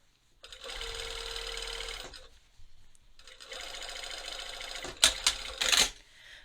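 A sewing machine stitches fabric for a handmade Rhapsody costume piece, running in two steady bursts of rapid mechanical whirring separated by a short pause, ending with a few sharp clicks and clunks up close.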